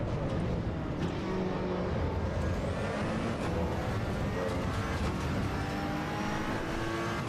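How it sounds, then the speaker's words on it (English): Race car in Assetto Corsa Evo, its engine roaring continuously and loudly, with turbo flutter chattering as the throttle comes off between pulls. "Turbo flutter."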